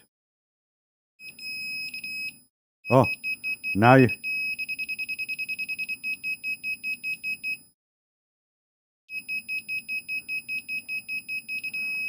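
A Pulse laser level receiver gives rhythmic, regular high-pitched beeps in bursts as it picks up the beam, with a pause in the middle. Someone speaks briefly over the beeping.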